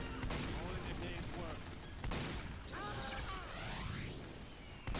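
Gunfire and impact effects from the video game Team Fortress 2, a steady barrage of shots with whooshing sweeps and crashes, dense and continuous, with game ambience throughout.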